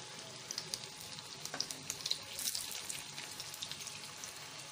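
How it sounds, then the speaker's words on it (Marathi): Leftover chapati cutlets frying in a pan over medium heat give a steady, close sizzle with soft crackling pops, and no voices are heard. "आपण हे कटलेट्स फ्राय करून घेऊया."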